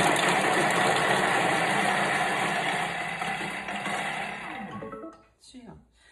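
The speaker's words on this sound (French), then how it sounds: "Et on va mixer 5 secondes," A kitchen robot blends two garlic cloves at speed 5, a loud steady whirring roar that runs for about five seconds and then stops abruptly, leaving a few faint clatters.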